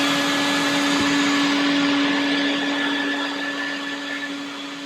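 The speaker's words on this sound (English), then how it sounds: "So you can connect your hose to the blower port and blow away any debris or dust." A shop vac built into a 5-gallon bucket blows air from its blower port with a steady, loud whine and rushing hiss that fades slightly toward the end, with no talking.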